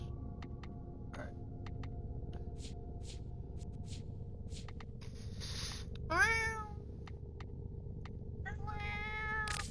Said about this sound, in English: because I could hear his cat now